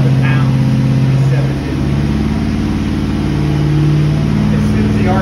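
A big block 460 engine on a dyno holds a loud, steady drone near and sustained, with a slight dip in load around the middle before it builds again, as the revs cycle between about 2,000 and 3,000 RPM.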